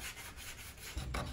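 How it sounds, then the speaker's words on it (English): Steady rasping friction of hand sanding on an early 20th-century wooden dresser, repeated back-and-forth strokes at close range with no voices. "now we get to move on to more sanding"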